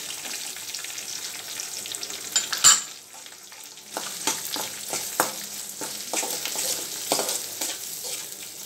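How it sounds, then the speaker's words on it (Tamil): Onions sizzling and frying in hot oil in a pan after curry leaves, with repeated stirring scrapes and clicks throughout, close and steady with no talk. "இப்போ வெங்காயம் போட்டுக்கிறேன்."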